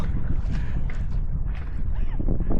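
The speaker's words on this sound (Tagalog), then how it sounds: "Ang lakas ng hangin." Steady, loud wind buffeting the microphone, a continuous low roar with some splashing of water throughout, at Mahogany Lake.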